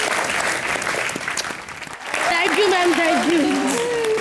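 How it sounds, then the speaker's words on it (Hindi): Loud applause from a comedy show studio audience fills the whole clip, with a voice speaking briefly over the clapping. "जोरदार तालियां।"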